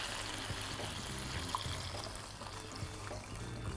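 Vegetable stock poured into a pan taken off the heat for deglazing during vegan steak and kidney pie preparation, a steady low trickle and pour running throughout at moderate level.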